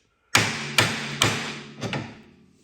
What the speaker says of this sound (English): if you just hit right here on the spindle where it's at with a hammer, they'll usually pop right loose